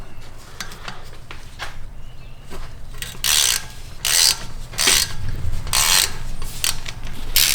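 A 6mm Allen wrench works loose the bolt holding the rotor on a BMW E90, ratcheting in loud bursts of rapid metallic clicks that come in repeated strokes close by.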